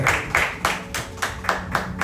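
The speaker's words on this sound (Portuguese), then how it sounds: "Vamos aplaudir o Senhor Jesus Cristo." A church congregation claps in unison, about eight to nine sharp, evenly spaced claps at a brisk steady rhythm, moderately close in a reverberant room.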